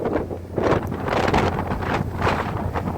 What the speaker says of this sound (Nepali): हावा लागेर चाहिँ धुलो उडेर मस्त